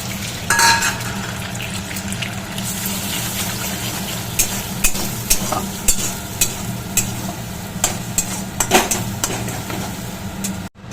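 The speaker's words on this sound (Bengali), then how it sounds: "এবারে আমি একটা ডিম ভেজে নেব" Continuous sizzle of an egg frying in a pan, close up, with repeated spatula scrapes and clinks against the pan, no voices.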